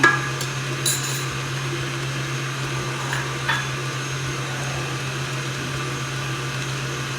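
Electric mixer beating a batter of egg, butter and sugar for banana bread, a steady motor hum running throughout with a few faint clinks near the start, fairly close and without talk.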